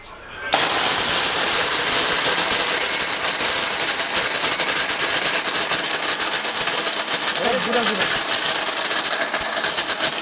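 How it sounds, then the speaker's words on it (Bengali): A Miyako 1400-watt home blender switches on after a brief pause and grinds dried turmeric with a loud, steady, harsh whirring roar that continues unbroken to the end. "আমরা এই ব্লেন্ডারটা দিয়ে কিন্তু করে দেখাবো আজকে কতটা শক্তিশালী পাওয়ারফুল সেটা পরীক্ষা করব"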